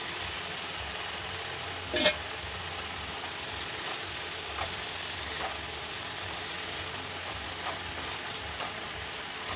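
Lote fish goes into hot oil and spices, giving a steady low frying sizzle with one sharp clatter early on and a few faint stirring knocks afterward.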